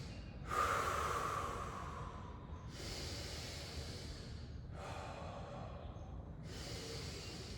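Slow, deep breaths during a yoga stretch, long hissing exhales and inhales in roughly three-second cycles, close and steady over a constant low background noise.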